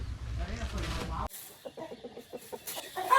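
Chickens and roosters at a cockfighting farm cluck in short, close bursts, first against a dense background, then as sparse, separate calls with speech mixed in.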